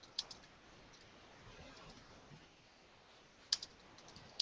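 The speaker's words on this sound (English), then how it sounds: "practice my typing" Quiet typing on a computer keyboard in a room, a few scattered sharp key clicks separated by long pauses of faint background hiss.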